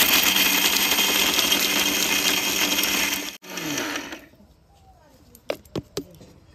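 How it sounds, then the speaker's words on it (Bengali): An electric mixer jar blends peanuts and other nuts: a loud, dense whirring for about three seconds, a brief cut-out, then a lower spin that fades, followed by a few sharp clinks near the end. "মিক্স জারের মধ্যে চীনা বাদাম আর এই বাদামগুলো একসঙ্গে দিয়ে ভালো করে ব্লেন্ড করে নেব"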